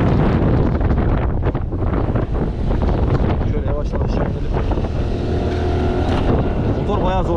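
A Mondial Wing 50cc motorbike engine labours up a steep 22% hill road near Bursa, its strained buzz half buried under loud, constant wind roar on the microphone.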